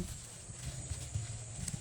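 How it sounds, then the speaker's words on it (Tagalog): Hoofbeats clip-clop faintly at a distance over a steady low rumble, a few soft irregular thuds with no voices. "May kabayo ata yun"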